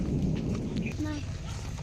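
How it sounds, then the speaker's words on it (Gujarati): Heavy evening rain pours down steadily in a village, a dense, continuous roar of falling water close by, with no distinct thunderclap standing out. "ફૂલ વરસાદ આવે છે."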